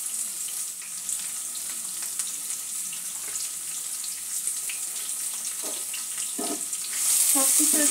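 Radish fries in hot oil tempered with asafoetida over a medium gas flame while spinach dal is prepared. A steady, soft sizzle runs throughout, with a few light clinks and stirring sounds near the end.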